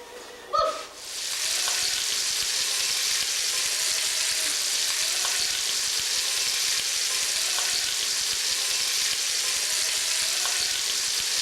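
Meatballs with sausage frying in a pan, a steady bright sizzle running continuously after a brief clatter at the start, close and alone without talk.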